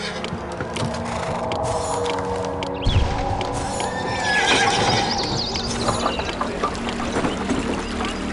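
A horse whinnies loudly in the video game Master of Atlantis over a busy layered background, with hoof clip-clops and ambient noise running throughout.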